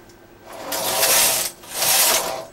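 A knitting machine carriage sweeps across the needle bed twice, two loud rattling, whooshing passes separated by a brief pause, close and alone.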